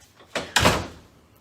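An interior door in a youth center closes with a short rattle followed by a louder thud, close by, with no talking.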